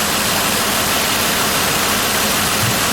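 A 2005 Ford Escape 3.0L engine with one ignition coil disconnected idles steadily and loudly up close, giving a constant, noisy rumble with no speech.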